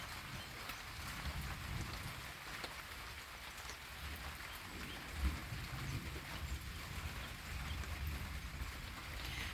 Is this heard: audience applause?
no